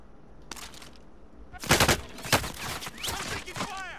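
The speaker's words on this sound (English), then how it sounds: "I'm taking fire." Gunfire rattles in a Call of Duty match: several sharp bursts and single shots, with the loudest volleys coming close together midway through over a low background.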